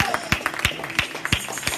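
A church congregation claps in an uneven rhythm, a run of sharp, fairly close claps, with voices mixed in.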